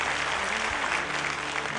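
Loud, sustained applause from a crowd, a dense wash of clapping that stays steady throughout.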